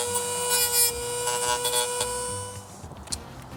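A Dremel rotary tool grinds away at a hole to widen it during a 4Runner battery upgrade, a steady high-pitched whine with a rough abrasive rasp that fluctuates as the bit bites, then eases off.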